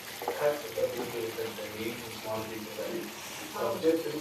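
Water pours into a cooking pan of stirred masala, a soft burbling flow that swells and fades in short surges while a voice talks over it.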